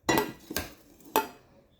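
Three sharp clinks of a utensil against a plate as beef steak and oven-baked cauliflower rice are moved onto a pet's plate, each knock bright and close, with quiet pauses between.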